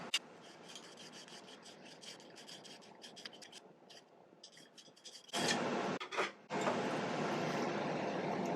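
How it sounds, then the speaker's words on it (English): A silver ponytail cover piece is shaped with a hand file in steady, close rasping strokes, soft and rhythmic at first and then louder and denser. No one talks. "Now I'm just going to spend some time filing this, get it into a nice shape."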